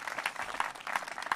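Audience applause at a live folk music anniversary concert, a steady wash of clapping from a crowd with some louder peaks, continuing for a moment.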